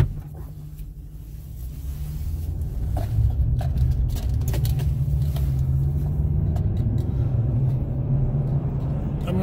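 A car rolls along a rural road near a mobile home, its low engine rumble and tire noise steady and close, with faint ticks and rattles from inside the cabin.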